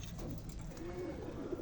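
Champion racing pigeons cooing nearby, a low throaty coo repeating in soft rolling pulses over a steady background hum.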